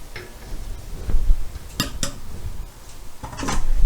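A spoon stirs Polish bigos with meat in a pot, giving a few sharp metallic clinks and scrapes against the pot over a low background hum.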